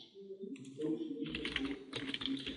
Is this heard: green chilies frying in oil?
no